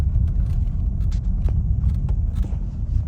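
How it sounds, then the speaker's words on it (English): A truck carrying vodka rolls past on a Minsk city street, a low steady engine and tyre rumble close by with faint scattered clicks of street noise and no talking. "That's a vodka truck carrying a whole truck of vodka."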